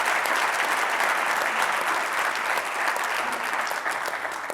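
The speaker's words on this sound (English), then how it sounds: "Please give a round of applause to the Reverend Dr. Kevin W. Cosby." Sustained audience applause at a faith and racial-reckoning forum event, dense steady clapping from a large crowd throughout, with no speech over it.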